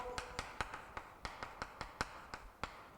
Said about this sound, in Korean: 노크를 했다 하고요.